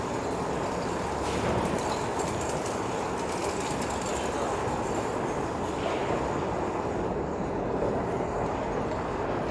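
A GO Transit commuter train at a Toronto station in winter gives a continuous rumbling roar with a faint rattle of wheels, steady and moderately loud for nearly ten seconds with no talk.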